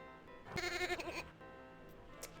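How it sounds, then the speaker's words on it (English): Inside the Freddy Pharkas: Frontier Pharmacist video game, a sheep lets out one clear, wavering bleat lasting about half a second, alone over a faint background hum. "Oh, that's a sheep."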